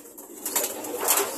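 Pet pigeons, including a red bar, make soft bird sounds with faint cooing and possible wing flutters, moderately close, with no speech.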